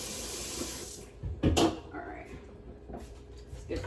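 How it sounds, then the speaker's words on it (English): Tap water runs into a kitchen sink while a bowl is washed, a steady stream that cuts off, then clattering handling and splashes with faint pauses. "So we're just washing the bowl, and then we're going to put the chicken in it and"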